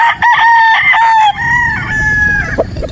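A game fowl rooster crows loudly and close by on a game farm in Batangas, a long drawn-out call with a wavering, strained finish, followed by a brief cluck.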